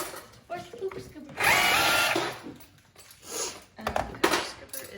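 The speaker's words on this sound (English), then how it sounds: "So I'm just gonna drill this in" A power drill runs in a short, loud burst of about a second amid nearby knocks and handling sounds, with a voice briefly heard.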